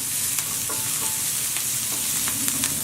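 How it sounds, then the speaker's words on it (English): Chopped onion, green chilies and coriander leaves fry in coconut oil in a pan, making a steady close sizzle broken by light scraping from regular stirring. No voices. "Add in the chopped onion, green chilies and coriander leaves. Now give it a stir."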